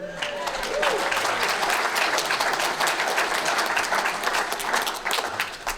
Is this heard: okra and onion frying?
no